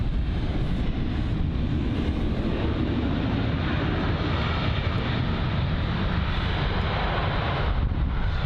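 Lufthansa Airbus A320neo jet at London Heathrow, a loud, steady engine roar with broad rumbling and wind buffeting the microphone that continues without break, no one speaking.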